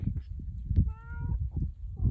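A kitten at a ranch gives one thin, high meow lasting a few tenths of a second, heard close amid soft handling noise and low rustling; a second faint mew follows near the end.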